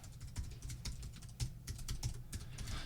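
Rapid keystrokes on a computer keyboard, a quiet run of uneven clicks and taps with brief pauses, fairly close and faint, with no voices.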